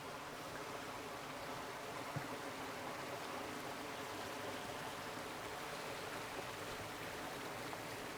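Steady rushing water from a flowing creek, an even wash of noise that holds constant throughout, with no voices or other distinct sounds.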